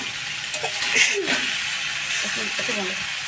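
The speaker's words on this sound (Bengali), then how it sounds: "এবার জল দিয়ে দিলাম" Water poured into a hot pan holding fried fish, bursting into a loud, continuous sizzling hiss that lasts throughout, with a voice faintly audible in the background.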